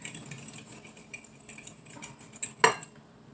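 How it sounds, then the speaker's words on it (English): An egg is beaten in a bowl, probably with a fork, as a base for creamy soup: quick irregular clinks and taps against the bowl that grow sharper and louder toward the end, over a quiet background with no speech. "I'm going to beat up my egg"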